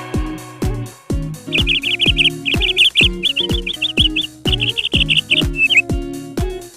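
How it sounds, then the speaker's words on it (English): Bright, rapid bird chirps from a parrot come in repeated bursts over a bouncy music backing, loud and close, with no talking. "P for parrot."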